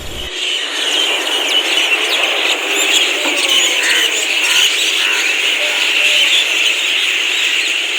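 A dense chorus of many birds chirping and twittering continuously at a distance, steady and fairly loud, with faint low background rumble.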